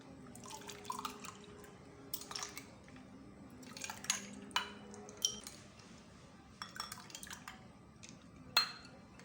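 Chilled milk sharbat made with Roohafza, basil seeds and chopped almonds and pistachios is served into a glass, with scattered close clinks of utensils against glass and small splashing drips between quiet pauses.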